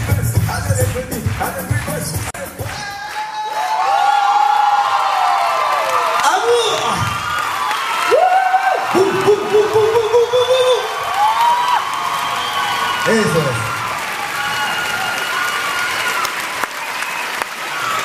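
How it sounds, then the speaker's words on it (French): A crowd at a 2007 dance show claps and cheers loudly, with whoops and shouts rising over the applause, while someone speaks over it through a microphone. "applaudissez moi encore plus fort s'il vous plaît"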